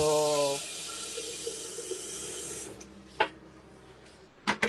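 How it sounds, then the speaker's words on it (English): Water runs from a tap into a Thermomix TM7 cooking bowl, a steady hissing broadband flow lasting a couple of seconds after a brief tone, then a few clicks and knocks as it stops. "Let me put some water in."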